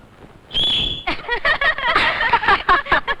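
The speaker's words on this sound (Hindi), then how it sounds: "कमाल है, लड़की सीटी बजाती है।" A girl gives a sharp, piercing finger whistle lasting about half a second, and excited voices break out right after.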